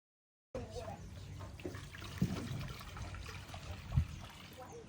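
Liquid trickles and pours steadily during kava preparation at a Tongan-style cooking and cultural experience, a soft continuous dribble with two brief louder splashes, heard close up without any talk.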